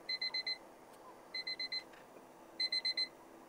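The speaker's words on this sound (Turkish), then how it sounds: "Burada kulaklık üzerine arkadaşlar bir ses oynatabiliyorsunuz" Find-my-earbud alert from QCY AilyBuds Pro+ earbuds: three bursts of four quick, thin electronic beeps each, evenly spaced and fairly faint over quiet room background.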